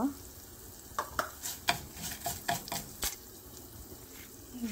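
Curry leaves sizzling in hot oil for a Bangalore-style pineapple gojju, a soft steady fry under a series of sharp spoon-against-pan scrapes and clinks as the mixture is stirred.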